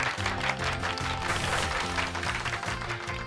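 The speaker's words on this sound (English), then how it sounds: "Give Pikachu a round of applause, Ellen." Crowd applause clapping steadily over a looping electronic music beat in Pokémon Scarlet, a brief burst of cheering from the game.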